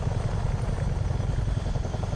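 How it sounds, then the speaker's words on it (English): Chinook helicopter in MSFS 2024, its rotor drone a steady, loud low-frequency throb with rapid rotor chop, continuous and close, with no voices. "a helicopter carrying a helicopter and about to crash"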